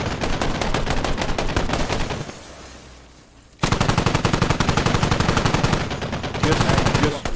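A vehicle turret machine gun in the tactical shooter game Squad fires long sustained bursts, loud and close, with a brief pause before the rapid hammering resumes.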